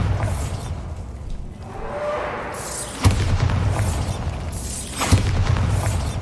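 Bombarda spell explosions in the video game Hogwarts Legacy: two sharp booming bursts about two seconds apart, each followed by a rumbling, whooshing tail over a steady low ambient drone, with no talking.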